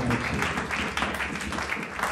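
A church congregation applauds during a French-language Thursday worship service, a steady wash of clapping from many hands with cheering voices mixed in, sustained and fairly even throughout.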